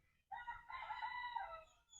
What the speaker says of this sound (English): Look at the cute little chicken in the coop.